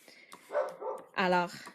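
A pet dog barks at home during a live card-making session, two or three short, fairly faint barks heard in the background while someone speaks.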